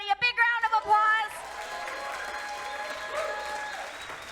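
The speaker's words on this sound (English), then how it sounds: "let's give everybody a big round of applause" At a fundraiser gala, a voice trails off and the audience breaks into a round of applause, the clapping swelling and then holding steady as a broad, even roar of hands.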